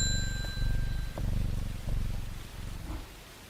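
A cat purrs when petted in the game Strange Horticulture, a close, soft rumbling purr in steady rhythmic cycles with a faint chime at the start.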